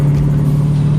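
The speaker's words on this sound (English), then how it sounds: "Probably downshift here." A big-turbo Duramax diesel pickup towing a load, engine droning with a strong steady low hum and loud continuous rumble as it downshifts on a hilly road.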